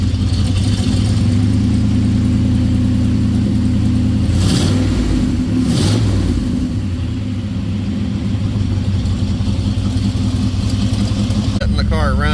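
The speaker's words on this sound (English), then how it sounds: "Letting the car run" A 1967 Chevelle engine idles steadily and loudly throughout, a continuous low rumble with a slight rise and fall, with a couple of brief bursts of sound partway through.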